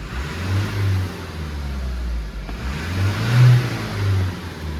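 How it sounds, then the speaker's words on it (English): A Mazda CX-3 engine revs up in surges as the throttle is snapped, rising twice to a louder peak, with a steady low idle rumble between the bursts. "when I snap the throttle, boom, that should change."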